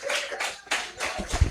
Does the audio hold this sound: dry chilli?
no